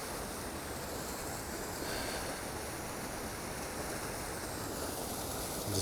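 Steady rushing water from a cascading stream and waterfall inlet in California's High Sierra, a constant broadband roar, close and even, with no voices.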